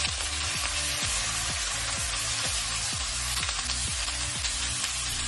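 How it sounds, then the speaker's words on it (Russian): Pieces of beef sizzle in hot oil in a frying pan, a steady crackling hiss with rhythmic scraping clicks of stirring about every half second, close and continuous with no talking. "Все хорошенько обжариваю."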